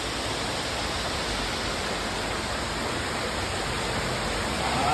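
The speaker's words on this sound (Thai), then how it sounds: "น้ำตกลอดลงมาใช่ป่ะ" Water from a waterfall pours down inside a cave, a steady loud broadband roar that fills the space without letup and swells slightly at the end.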